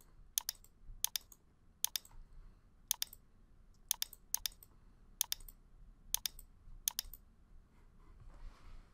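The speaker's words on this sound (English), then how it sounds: "I'm going to click on everything this time." Computer mouse clicks in close pairs and single snaps, repeating at an uneven pace over a quiet background hum, crisp and near, with no talking.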